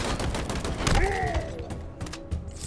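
Automatic DMR fire in the Halo Infinite game: a steady, rapid stream of close, loud shots with thuds and mechanical clatter, weapon tones sweeping underneath and faint voices in the mix.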